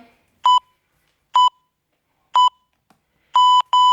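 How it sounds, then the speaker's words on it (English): A workout timer gives five sharp electronic beeps, evenly spaced at first, then two longer tones close together at the end, loud and clear with silence between. "Till it goes beep."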